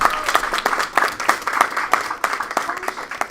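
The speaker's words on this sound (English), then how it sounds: "how about a round of applause for Shireen?" Sparse clapping from a small group after a request for applause, with a handful of distinct claps standing out over light room noise; a voice can be heard talking faintly underneath.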